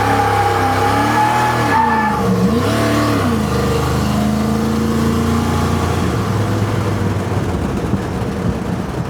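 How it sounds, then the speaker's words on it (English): Carbureted car engine revving hard during a burnout, a loud sustained roar that climbs, dips and climbs again, then holds at a high steady drone with tire noise beneath. "let's see how she does a burnout"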